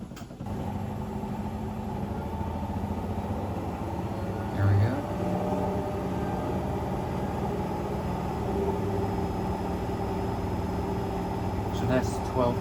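An AEG L9FENS96 washing machine spins up to 1200 RPM, a steady low hum and whir holding level with a faint bump midway, heard close with no talking.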